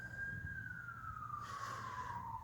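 Police cruiser siren during an evacuation in Gravenhurst, Ontario, a single steady tone slowly falling in pitch over a low rumble of street noise, moderately distant.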